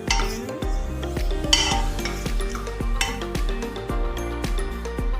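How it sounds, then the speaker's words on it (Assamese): Cardamom pods and cinnamon pieces being stirred in a hot pan for pulao, with busy metallic scraping and repeated clinks of a spatula on the pan over a faint sizzle, close and fairly loud. "অকণমান ইয়াক এতিয়া লৰাই ল'ম।"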